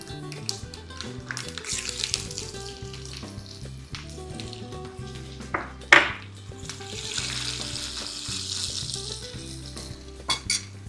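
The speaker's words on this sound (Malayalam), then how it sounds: "നമുക്കിനി കടുകിടാം കടുക് നല്ലതുപോലെ പൊട്ടി" Hot oil crackles and sizzles as mustard seeds splutter with scattered sharp pops, alongside shallots, dried red chilies and curry leaves, plus occasional clinks of a utensil against the pan; no talking.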